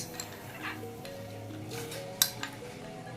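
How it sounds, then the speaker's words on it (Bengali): Luchi payesh with salt, sugar, cashews and raisins being stirred in a pot: a soft, steady scraping with a few sharp clinks of the utensil against the metal, quiet and close, with no talk. "একটু ভালো করে নাড়িয়ে নিতে হবে"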